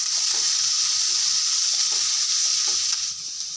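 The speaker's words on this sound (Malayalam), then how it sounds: "വെളുത്തുള്ളി ഒരു 6 എണ്ണം ചതച്ചെടുത്തത്, ഒരു സബോള ചെറുതായി അരിഞ്ഞത് അതിലേക്ക് ചേർത്ത് കൊടുക്കുന്നുണ്ട്." Crushed garlic and finely chopped onion hit hot oil with mustard seeds for a fish and brinjal dish, a loud, even hiss of frying with faint stirring taps underneath.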